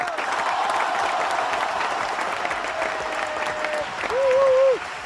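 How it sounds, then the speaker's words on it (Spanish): Dense studio applause on a radio program, loud and continuous throughout, with a brief tonal sound near the end. "Y este aplauso es para Marcos Lazarte, que estuvo en la Vuelta del Perro"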